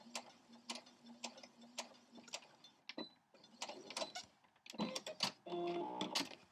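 A sewing machine back stitches at the end of an appliquéd scrappy crumb quilt block, a quiet series of rhythmic mechanical ticks and whirs that speed up and grow denser toward the end.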